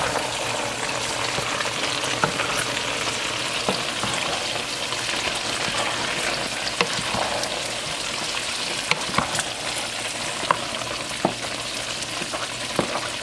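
Crushed tomatoes stirred in a hot frying pan, a steady dense sizzle with scraping stir strokes and occasional small clicks of the utensil, continuous and close throughout.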